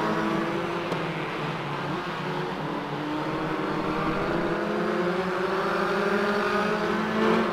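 A small race car engine from the Formula RaceRoom Junior racing game drones steadily throughout, its pitch climbing and falling through the gears, with no talking over it.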